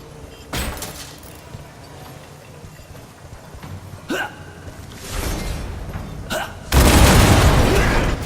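Bombard explosions in the dungeon strategy game War For The Overworld: scattered booming blasts with crackling bursts, building to a loud, dense roar near the end.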